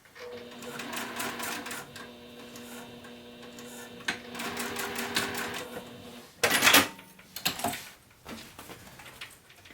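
A sewing machine stitches a zipper onto a zip-around wallet, running in steady mechanical bursts with brief pauses, then a few sharper clicks and clatters near the end as the stitching stops.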